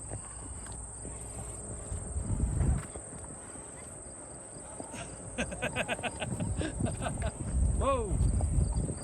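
Horse hooves clop unevenly along a trail at Deep Creek Lake, moderately close and soft, with a high steady insect whine over everything, voices nearby and a rising whistle-like call near the end.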